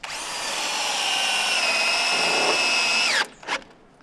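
A power drill drives a screw into end-grain timber of a roof-truss trimmer beam, a steady loud whine holding for about three seconds, then stopping abruptly, followed by a short second burst.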